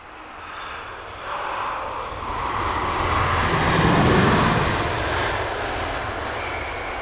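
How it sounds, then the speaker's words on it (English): American Airlines Boeing 787 Dreamliner jet at Heathrow Airport in West London, a broad roaring engine rumble that swells to a peak mid-way and slowly eases, heard from a distance with no talk. "Another noisy American Dreamliner here on the north side"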